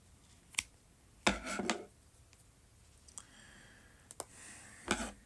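Scissors trimming crochet yarn on a throw blanket: a few sharp, quiet snips spaced irregularly over several seconds, close by in a still room.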